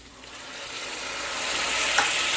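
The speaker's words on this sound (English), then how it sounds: "Then I'm going to start adding vegetable stock, about 1/4 cup" Steady frying sizzle of mushroom risotto as vegetable stock is added, growing gradually louder, a broad hiss with a small splash or clink near the end; no voices.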